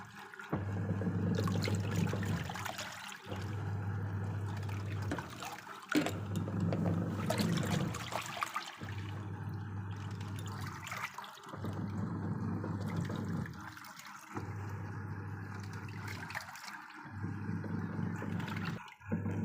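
Dirty wash water drains from a washing machine after washing a double bed blanket, with repeated gushing surges every two to three seconds over a steady low hum, close and continuous.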